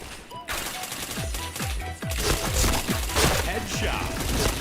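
Video game gunfire in a shooter, with rapid bursts of shots in quick succession, loud and close, over a busy background of game sound.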